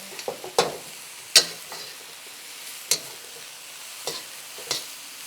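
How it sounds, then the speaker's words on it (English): Beef and broccoli being tossed and mixed in a wok: scattered scraping and clacking stirs at uneven intervals over a faint, low sizzle, close by and without voices. "I'm gonna mix all this together without flipping any broccoli out of the wok."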